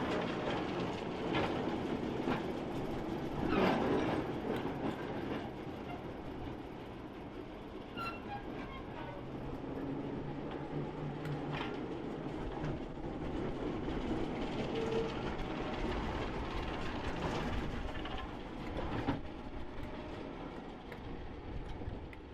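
A Class 08 diesel shunter locomotive rumbles past slowly with steady low mechanical noise and occasional clanks and squeaks of wheels on track, fairly distant and quiet, at a heritage railway centre.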